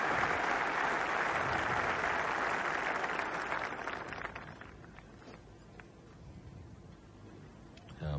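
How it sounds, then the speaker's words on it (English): Golf spectators at the 1977 Open Championship applaud Lee Trevino warmly at the final green, a broad, distant ovation that tapers off after a few seconds. "Trevino gets a 4 and great round of applause."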